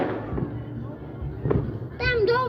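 A couple of firework bangs pop amid New Year's crowd noise, with excited voices shouting and chanting in Bulgarian over them.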